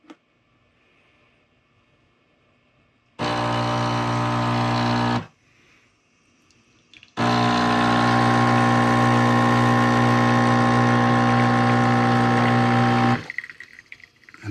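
A Gaggia Evolution espresso machine runs to warm up, giving a loud steady pump buzz in two bursts, one about two seconds and a longer one about six seconds, with quiet pauses around them.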